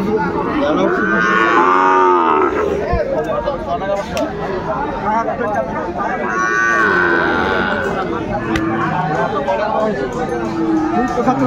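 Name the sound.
cattle mooing at market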